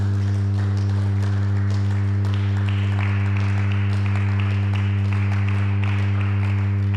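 A church congregation applauds Jesus with steady, dense clapping throughout, heard over a loud constant low hum.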